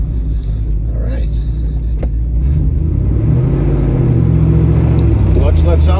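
Inside a 1967 Chevrolet Camaro with a 396 big block V8, the engine rumbles deep and loud, then revs up and pulls harder as the car accelerates, while someone talks over it.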